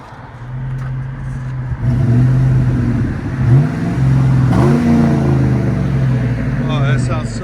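A Chevy Tahoe with a 5.3-liter V8 revs through its aftermarket exhaust, a loud, deep, steady rumble with a couple of quick throttle blips rising and falling, while someone talks over it.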